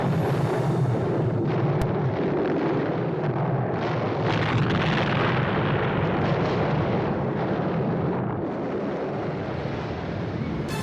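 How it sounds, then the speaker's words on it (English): A miniature explosion special effect by Derek Meddings for a Bond film plays as a loud, sustained roaring blast, dense and rumbling, swelling and holding for several seconds before easing slightly. "The miniature explosion by Derek Meddings looks just phenomenal."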